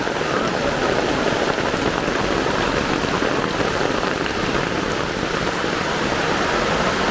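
Heavy rain pours down in a loud, unbroken hiss of countless drops striking surfaces, dense and steady from start to end.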